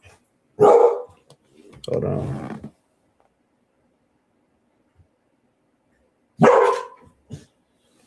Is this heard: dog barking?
yes